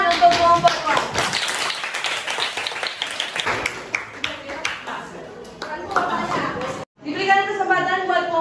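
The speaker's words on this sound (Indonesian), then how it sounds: "Tepuk tangan untuk kelompok 2" Students clap for a group in a math classroom, scattered and uneven claps mixed with chatter and light laughter, then a brief pause before a voice takes over.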